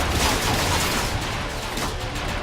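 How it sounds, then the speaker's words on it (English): A cannon firing explosive rounds in the video game Transformers: Fall of Cybertron, a dense, continuous roar of blasts and rumble lasting throughout, loud and close with no talk over it. "Shoot explosives to damage nearby enemies."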